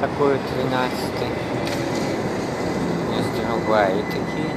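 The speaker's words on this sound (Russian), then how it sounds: "Вот он трамвай." A tram passes along a city street with a steady rumbling roll of wheels on rails, close and fairly loud, while voices speak nearby.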